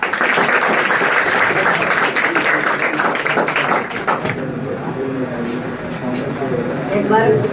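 Loud applause from a crowd at a coaching class award ceremony fills the first half, then fades to scattered clapping under a speaking voice.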